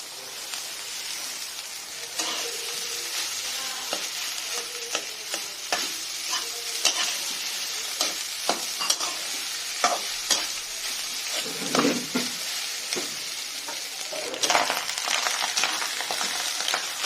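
Rice stir-fried in a pan for a quick bachelor-style fried rice, with steady close sizzling and frequent scraping stirs of the spatula running the whole way through.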